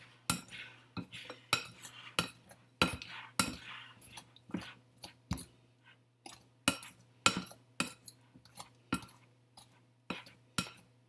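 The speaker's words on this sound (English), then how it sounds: "So we're cutting in the butter into the flour so that they are nice little small pebbles in your flour" Butter being cut into flour for scones with a metal utensil in a bowl, a long series of sharp, irregular clinks and scrapes, close and fairly quiet with a faint steady hum beneath.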